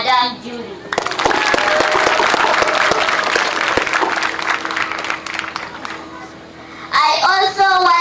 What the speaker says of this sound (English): we give a big hand clap to Madam Julie